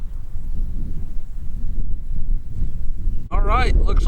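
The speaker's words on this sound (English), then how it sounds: "it's windy out here" Gusty wind buffets the microphone outdoors at a shooting range with a .22 LR rifle, a continuous low rumble throughout, followed by someone talking near the end.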